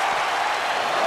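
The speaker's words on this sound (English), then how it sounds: "What a raucous crowd here tonight." Arena crowd in the WWE 2K24 wrestling video game (Seth Rollins vs Shawn Michaels), a steady, dense roar of cheering with no breaks, loud and close.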